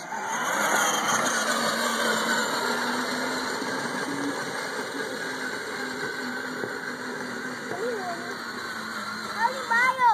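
An off-road vehicle driven fast, its mid-pitched engine revving steadily and close by, with voices talking over it and a few sharp bumps toward the end.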